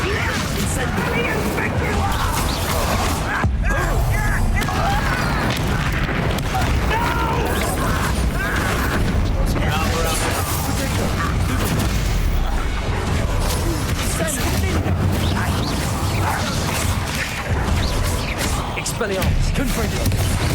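Spells Expelliarmus, Confringo and Incendio cast in Hogwarts Legacy combat, a dense, continuous stream of magical bursts, crashes and whooshing impacts, with cast names voiced over the loud clatter.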